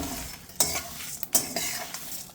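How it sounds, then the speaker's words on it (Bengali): Spices are stirred continuously and fried in a pan for a meat masala, giving a close sizzle with scraping spatula strokes and a few sharp metallic clinks against the pan. "কন্টিনিউয়াসলি আপনার নাড়ার উপরে রাখতে হবে, যাতে করে প্রত্যেকটা মশলাই ভুনা হয়, টালা হয় ঠিক মতো।"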